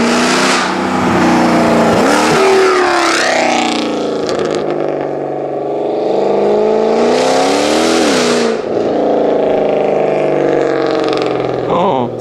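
Mercedes C63 AMG with its exhaust valves open, revving hard in repeated loud, close bursts of engine roar that rise and fall over about twelve seconds.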